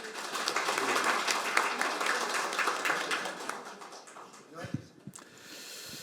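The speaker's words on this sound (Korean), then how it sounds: "모두 큰 박수 부탁드립니다." An audience at a seminar on delayed post-war PTSD and veterans' policy bursts into applause that stays full for several seconds, then thins and fades as a voice begins to speak.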